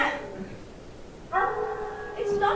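A hound's howl played as a sound effect during a school stage production, a drawn-out wavering cry that swells midway, with a second rise near the end over faint room noise.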